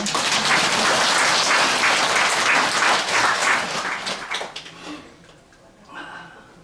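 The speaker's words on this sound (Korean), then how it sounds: "토끼띠 박수 한번 더 쳐주세요." A temple congregation at a monthly Buddhist dharma service claps loudly as one crowd, a dense roar of hands that thins out and fades near the end, followed by a short quiet stir.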